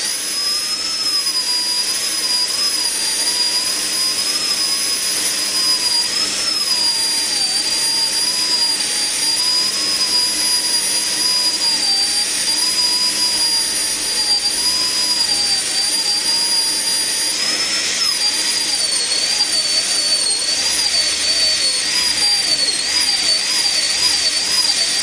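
A high-speed dental drill whines steadily and loudly as it cuts the second plane of an anterior tooth preparation, a continuous shrill tone that wavers slightly in pitch, heard alone without talk.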